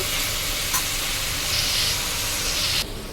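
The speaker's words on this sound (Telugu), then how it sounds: "ఇందులో వాటర్ అంతా బాగా వచ్చేంత వరకు ఉడికించుకోవాలండి నాటుకోడి కాబట్టి టైం పడుతుంది" Country chicken cooks in a pot, giving a steady, loud sizzle and steamy hiss close by that runs throughout, with a brief stir-like clink partway through.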